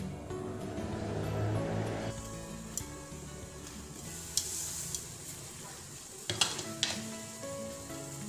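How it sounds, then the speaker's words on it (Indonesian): Half a liter of water heating in a pot for pasta, a steady bubbling, simmering hiss that starts fuller and rumbling then thins, with a few small clinks and taps over it; no voices. "Airnya akan saya tunggu mendidih."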